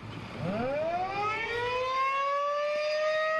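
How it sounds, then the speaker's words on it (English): A loud outdoor community warning siren in Allen County, Ohio winds up from low to a high, steady wail, its tone sliding upward and then holding, sounding alone with no voices. "When the community warning sirens go off, do you know what to do?"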